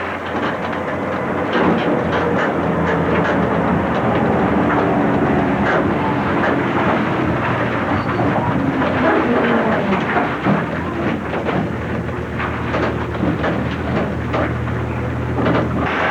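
A train rumbles past nearby along a shoreline in Galveston and Bolivar, Texas, in 1990, a steady rolling roar with rhythmic rattling of wheels on track and a low tone lingering near the end.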